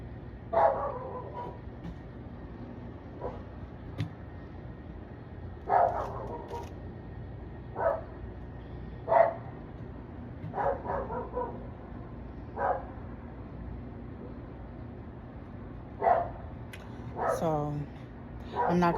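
Several dogs bark in short scattered bursts with occasional yips and whimpers, some near and some farther off, in a quiet early-morning setting by a backyard grill in Las Vegas.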